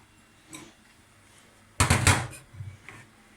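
Frozen pre-cut onions tumble into a cooking pot for Moroccan-style carrots, giving one loud, brief clattering burst with a sizzle, a couple of smaller knocks trailing after, and quiet moments around it.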